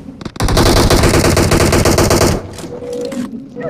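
A loud, rapid burst of automatic gunfire from the battle royale video game PUBG rattles for about two seconds at close range, then cuts off, leaving quieter background game sound.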